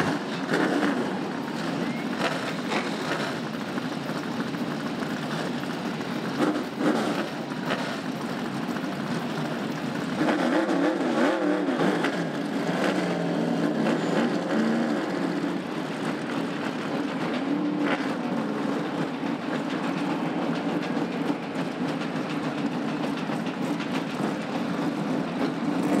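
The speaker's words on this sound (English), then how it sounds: "Drivers, start your engine." A field of SK Modified race cars fires up and revs at Stafford Speedway before the SK5K feature, a dense, loud, continuous engine roar that swells and surges, with no talking.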